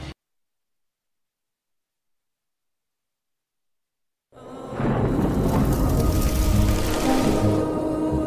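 Heavy downpour over a water-filled tank in Jamjodhpur, Jamnagar, Gujarat, with water rushing like a river: after about four seconds of silence, a loud, steady roar of rain and flowing water sets in and continues to the end.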